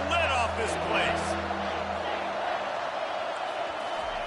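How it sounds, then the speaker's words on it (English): A stadium crowd at a football game roars loudly and continuously on a third down, a dense wash of cheering with a voice talking over it. "this crowd is tearing the lid off this place"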